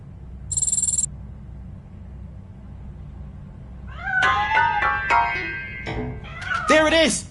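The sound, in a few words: cat meowing, from video game Robocop: Rogue City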